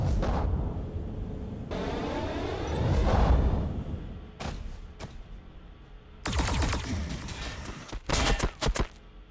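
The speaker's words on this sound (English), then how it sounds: "It's the commander calling in some missile strikes." Missile strikes in a Warhammer 40,000 video game, with a Necrons versus T'au battle, land as a series of heavy blasts and rumbling explosions, followed by sharp bursts of rapid fire, loud and close.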